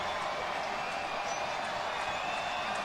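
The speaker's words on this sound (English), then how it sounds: "Bulls home crowd coming alive." The South Florida Bulls home crowd roars at a college football game against South Carolina State, a dense, steady wall of cheering and crowd noise with commentary running underneath.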